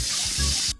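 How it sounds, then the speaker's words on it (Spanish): Fresh whole chicken rinsed under a running kitchen tap, a close, steady gush of water splashing, briefly cut off near the end before resuming. "Vamos a darle una buena enjuagada acá."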